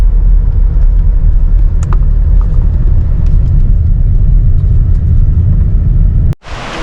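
Steady low road rumble and engine drone inside a car climbing a mountain road near Horseshoe Curve in the Allegheny Mountains, loud and continuous with faint rattles, then a sharp cutoff and brief burst near the end.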